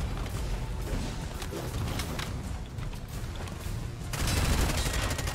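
Rapid bursts from a fast-firing explosive weapon in Bright Memory Infinite, a dense stream of shots that grows louder and harsher near the end, with game sounds mixed in.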